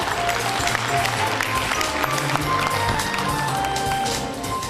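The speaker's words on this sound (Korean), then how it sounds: "하기열 부산 진구청장님 함께 하셨습니다. 박수 부탁드립니다." Dense, sustained applause from an outdoor crowd at the opening ceremony of the third Seomyeon Medical Street festival in Busan, loud and continuous before easing slightly at the end.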